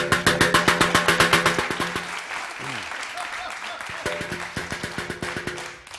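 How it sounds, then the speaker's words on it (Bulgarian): A studio audience claps at a Bulgarian comedy show in rhythmic, pulsing bursts over a musical backing that pauses midway and then resumes. "Чакай да поема аплодисментите."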